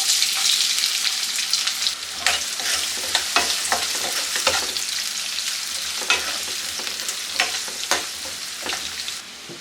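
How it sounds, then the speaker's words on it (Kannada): Two medium finely chopped onions sizzle in oil in a pan for lemon rice (chitranna), a constant frying hiss broken by frequent sharp spatula stirs and scrapes. "ಈಗ ಇದಕ್ಕೆ 2 ಮೀಡಿಯಮ್ ಸೈಜ್ ಈರುಳ್ಳಿ ಸಣ್ಣದಾಗಿ ಹೆಚ್ಚಿಕೊಂಡಿರೋ ಇದನ್ನು ಹಾಕ್ಕೊತೀನಿ"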